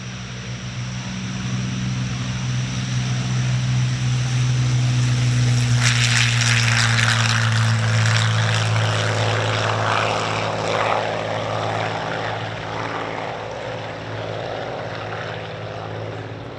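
A Messerschmitt Bf 109G warbird with an inverted DB605 engine runs with a steady, loud propeller drone and a low engine rumble at an air show, swelling with a rushing roar midway as it keeps running.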